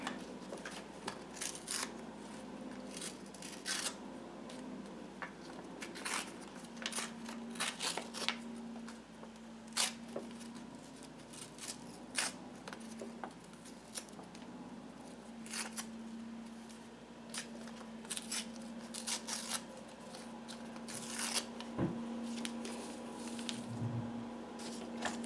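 Quiet, irregular tearing and crinkling of paper ripped by hand into pieces for a fairy house craft, soft close-up rips scattered over a low background hum.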